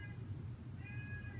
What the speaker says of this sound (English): that's the family cat in the background.